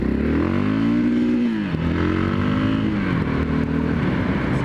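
The engine of a 2013 Yamaha MT03 motorcycle drones steadily while riding, heard up close and loud. Its pitch dips briefly and then climbs again as the revs change, with no voices present.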